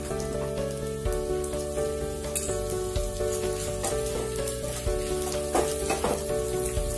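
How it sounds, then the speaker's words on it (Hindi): Edible gum (gond) frying in hot ghee for Rajasthani churma, giving a dense, steady crackling sizzle with small pops scattered throughout, heard close and alone. "ये जब मैं घी में डालूंगी तो ये बिल्कुल कॉर्न के जैसे फूल जाएंगे"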